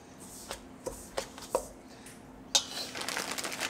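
Oatmeal chocolate chip cookie dough is stirred in a bowl. A spoon gives a few soft, spaced knocks and scrapes, then a denser, steady scraping rustle; quiet and close, with no talking.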